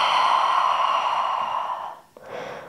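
Long, steady breathy exhale through the mouth during a foot- and ankle-injury-friendly yoga class, loud and close for about two seconds, then a brief quieter breath afterward, with no talking.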